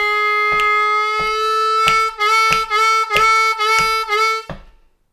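G harmonica lick from a song, a long held reedy note followed by a run of short rhythmic pulses that end in a fade, played close with nothing else heard.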